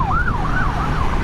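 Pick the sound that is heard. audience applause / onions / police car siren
police car siren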